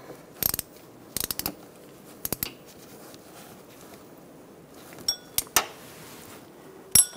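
A ratchet snugs a crankshaft position sensor bolt on a 2002-2006 Toyota Camry 2.4L four-cylinder, brief bursts of quick metallic clicking separated by pauses in a quiet space, with no talking.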